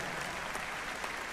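Concert audience at the Teatro Metropólitan applauding an orchestra soloist, a steady dense wash of clapping from a large crowd, even and sustained throughout without a break.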